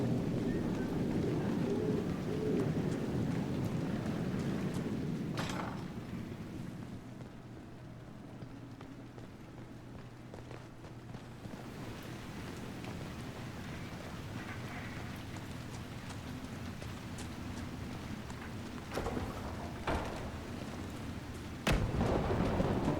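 Rain falls steadily through a stormy scene in the video game Dragon Age Inquisition, with a couple of faint thunder cracks rolling under the constant hiss of the downpour.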